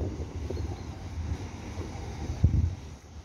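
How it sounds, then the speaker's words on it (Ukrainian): Wind blows outdoors, a steady low rumbling buffet across the microphone with a brief thump near the end, fairly faint throughout. "Да, вітер є."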